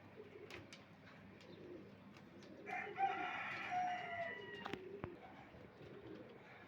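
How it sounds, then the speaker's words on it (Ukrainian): Young pigeons in a loft cooing and calling, with a brief burst of louder warbling in the middle over a steady low background, no talk. "Голубенятка є такі, теж скоро в гонну пойдуть. Отакі голубенятки."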